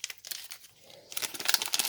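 Foil wrapper of an NBA trading card pack being torn and crinkled open by hand, a quieter rip at first, then a louder, brighter burst of tearing and crackling, close up with no talking.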